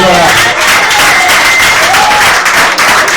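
A church congregation applauds steadily through a loud, dense burst of clapping, close and continuous, with some crowd voices mixed in.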